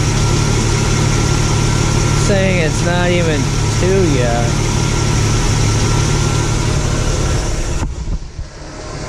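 A Jeep engine idles with a steady, loud low hum and fan whir that drops away near the end, while a person talks over it.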